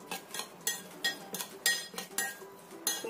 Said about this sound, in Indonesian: Kita aduk sampai rata dulu bumbunya dengan minyak ini